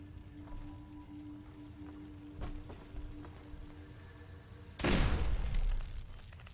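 A single loud burst erupts late in a Fallout 4 play session, a gunshot explosion with a sharp onset and a noisy decaying rumble, following a few faint clicks over quiet game ambience.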